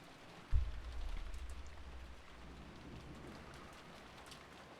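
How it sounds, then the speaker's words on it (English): Rain in the Umineko: When They Cry visual novel falls as a soft, even wash of faint hiss, with a low rumbling swell near the start that fades after a couple of seconds, and no voices. "disappeared beneath the sound of the rain"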